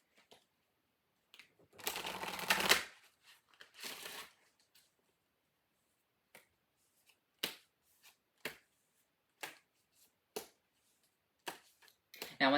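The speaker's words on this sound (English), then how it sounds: "Let me get you a couple of Halloween oracle cards." Halloween oracle cards being shuffled up close, with a long riffle burst near the start and then a series of short separate card snaps and flicks spaced through the quiet.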